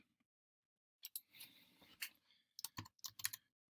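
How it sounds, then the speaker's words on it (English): Computer keyboard keys are tapped in quick irregular clusters after a second of silence, close and crisp, with brief pauses between bursts of typing. "let me type that up"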